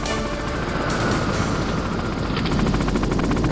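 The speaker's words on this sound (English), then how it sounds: "There's the helicopter down there." In the Metal Gear Solid video game, a helicopter flies below the roof line, its rotor giving a loud, rapid chopping thrum over rumbling game noise and bursts that sound like gunfire, with no speech.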